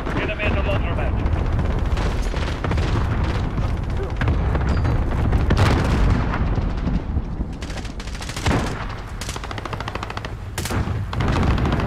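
Cluster strike explosions in Call of Duty Modern Warfare hit close and loud, mixed with a rattle of machine-gun fire and booming blasts. The din is constant, and a player talks over it throughout.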